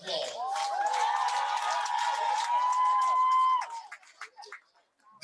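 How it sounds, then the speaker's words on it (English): A graduating class of 2021 at the Southern University and A&M College spring commencement bursts into sustained applause and cheering, a dense crowd roar that holds for about three seconds and then breaks off into scattered claps and murmurs. "please give yourselves a round of applause"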